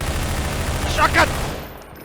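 Shotgun fire in the Half-Life 2 video game: two quick, loud blasts close together about a second in, over a steady layer of game background noise.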